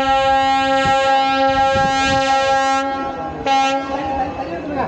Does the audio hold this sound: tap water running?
no